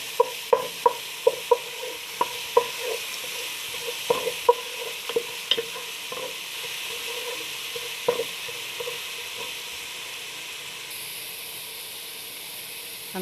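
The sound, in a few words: garlic frying and being stirred for koshari sauce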